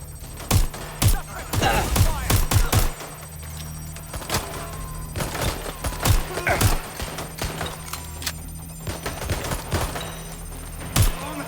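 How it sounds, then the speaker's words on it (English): Gunfire in the video game Watch Dogs Legion, a shootout of loud, sharp shots arriving in irregular bursts and single cracks over a steady low hum, with a brief ringing tone mixed in. "Incoming fire!"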